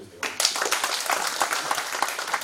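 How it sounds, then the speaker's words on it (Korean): A congregation at a church forum's opening worship service breaks into applause, starting suddenly and continuing as a full, lively patter of many hands. "박수 한번 해주세요"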